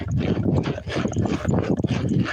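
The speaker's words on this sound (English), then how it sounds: "horse can trot for miles" A horse trots steadily, its hooves giving a dense, even clip-clop close by with no pause across the stretch, loud and continuous over a rough background.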